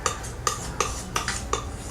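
A palette knife mixes Prussian blue and alizarin crimson oil paint. It makes about five sharp, evenly spaced scraping clicks, each close and crisp, with soft smearing between them and no voices.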